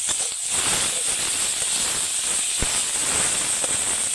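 Mustard oil with garlic and onion sizzles in a pan as a loud, steady, close hiss that runs unbroken throughout, with no talking.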